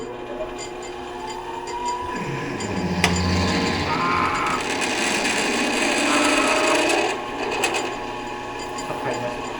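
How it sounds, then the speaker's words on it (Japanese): A drill bores a hole in SUS304 stainless steel on a machine, giving a steady, loud whirring grind with a shifting cutting tone that eases near the end. "304の穴あけいきます。"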